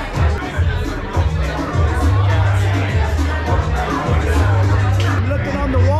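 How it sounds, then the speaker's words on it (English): A crowd of about 75 to 80 people at a comedy club on a third floor in Bangkok fills the room with dense, continuous chatter and babble, with a low hum running underneath. "We got a pretty good crowd. I'd say 75, 80 people piled up here on the third floor."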